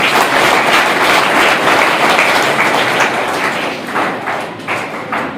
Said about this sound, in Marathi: आपण एकदा सर्वांसाठी टाळ्या वाजवूया